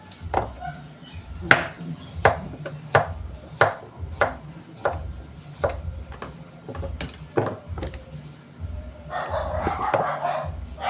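Dogs bark in a series of sharp, repeated yaps, fairly close, with a rougher burst of noise near the end.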